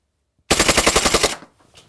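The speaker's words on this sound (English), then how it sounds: "let's see how many rounds per second we can get from that full auto fire" A rapid burst of full-auto fire from a gas-powered HFC M190 airsoft pistol, around a dozen sharp pops in under a second, loud and close, then quiet.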